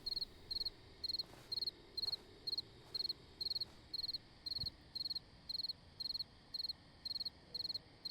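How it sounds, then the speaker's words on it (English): Crickets chirp in a wildlife photography video game, a bright, evenly spaced pulsing trill repeating about twice a second, steady and clear over a faint, quiet ambient background. "Anyone hear crickets?"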